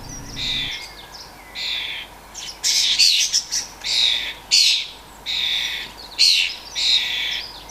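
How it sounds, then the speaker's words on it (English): Young starlings squawk in a noisy cluster around a coconut, harsh bursts repeating roughly every second with short gaps, fairly close and loud over a steady outdoor hiss. "Even the young starlings try their talents out on the coconut."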